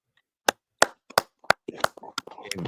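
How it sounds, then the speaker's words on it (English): A few people clap for a sister at a religious class gathering. The claps come as sharp, separate, fairly close bursts that grow denser toward the end, with faint voices mixed in. "Y'all clap it up for the sister, man."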